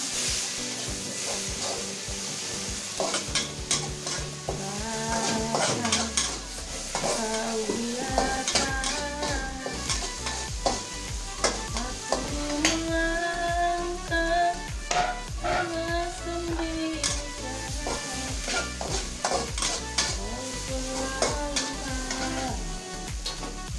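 Chili and tomato stir-frying in a hot pan for spinach and bean sprouts, with a steady loud sizzle, stirring clatter of utensil against pan, and music playing throughout.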